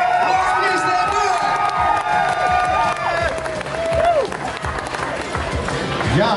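An audience at the Grote Prijs van Nederland music contest in the Netherlands claps and cheers loudly. Whoops and shouted voices ride above continuous applause from a large crowd.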